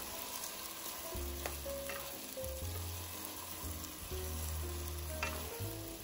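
Chicken lomi is stirred in a pot, with a soft bubbling sizzle underneath and repeated low scraping and clunking strokes of the utensil against the pot, close and steady, with no voices.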